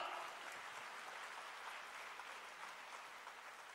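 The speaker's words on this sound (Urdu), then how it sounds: "خواتین و حضرات، بھرپور تالیاں." A crowd applauds at a laptop distribution ceremony held by Pakistan's prime minister, a sustained, even wash of clapping that carries on without a break, heard faintly as if from across a hall.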